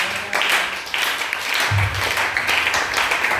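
Church congregation applauding the Lord during a service, a dense wash of clapping hands that swells and fades in waves, with faint voices mixed in underneath.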